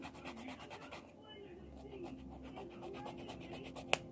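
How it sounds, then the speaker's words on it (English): A nail file rasps in quiet, rhythmic strokes as fake UV gel coffin nails are filed into shape, close up and soft, ending with a small sharp tap. "now you just keep filing until you get the shape"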